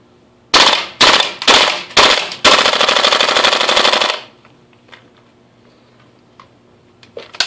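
An airsoft gun loaded with BBs fires on full auto, several short loud bursts followed by one sustained rattling stream of rapid shots, then quiet handling clicks.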